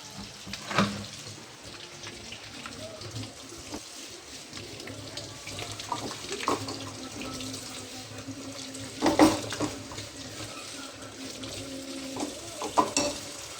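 A child washes dishes at a sink, with running tap water, soft splashing and occasional clinks and knocks of crockery at a moderate distance, no talking.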